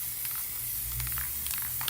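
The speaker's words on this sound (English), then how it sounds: "for those curious about the spray paint I used" An aerosol can sprays paint onto wooden arcade cabinet panels in a brief, steady hiss with a few faint clicks, close and alone.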